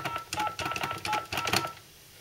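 Touch-tone keys on an emergency phone dial an outside line, giving a quick, faint run of short beeps that ends abruptly.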